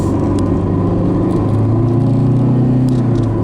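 An Oldsmobile Cutlass Cruiser's engine runs steadily while driving, a loud, close, continuous low rumble and whir with a slight rise in pitch.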